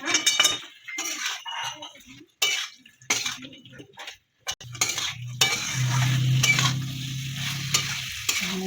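Boiled jackfruit pieces sauté in a pan, first with intermittent stirring and clinking of a utensil against the metal between pauses, then settling into a steady, close sizzling fry.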